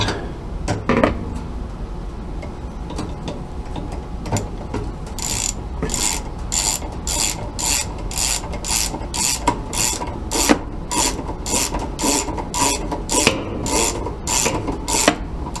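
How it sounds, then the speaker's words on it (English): A ratchet tightens the agitator of a 1980s Kenmore dual-action washer, producing a close, steady run of rapid rasping clicks in regular strokes after a few scattered knocks, with no talking. "And then I will tighten it up with the ratchet."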